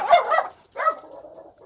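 A pet dog gives two close, sharp barks, the second trailing off into a thin whine, with no talking.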